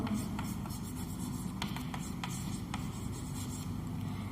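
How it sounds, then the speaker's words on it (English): Chalk writes an answer on a classroom board in a quick series of short, scratchy taps and strokes over a steady low room hum, with no speech. "So in acidity we use, here we write answer"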